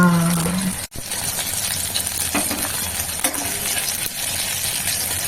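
Flat bean pakoras fry in hot oil, a steady close sizzle with occasional clinks and stirring knocks from a utensil, and no talking.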